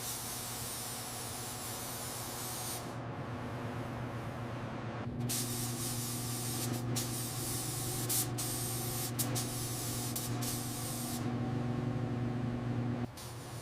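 A spray gun lays down the first paint coat on a 1948 Tucker Torpedo under restoration, a loud, steady hiss in long bursts with brief pauses and a low mechanical hum underneath.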